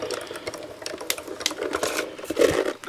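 Card stock fed slowly through a Diamond Press die-cutting machine, a steady close mechanical grinding and clicking as the rollers turn with no talk.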